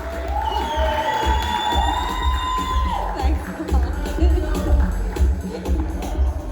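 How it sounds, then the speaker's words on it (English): A graduation ceremony crowd cheers and whoops steadily, a loud, continuous roar of mixed voices with some high calls rising above it near the start. "Let's please give him a round of applause."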